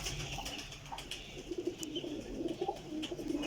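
Pigeons, including a Teddy pigeon, coo softly and repeatedly in their loft, faint and somewhat distant, over a low background hiss with occasional small chirps.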